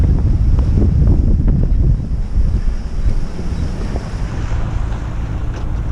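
Strong wind of about 22 knots blowing at Akranes harbor in Iceland while sailing solo, a loud continuous roar buffeting the microphone with low rumbling gusts and faint water wash beneath.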